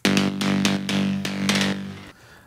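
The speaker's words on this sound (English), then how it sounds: "And this support lead sounds something like this." A supporting lead synth patch made in Serum for a melodic techno track plays alone, a bright, buzzy, harmonically rich tone in rhythmic repeated stabs with a short tail at the end.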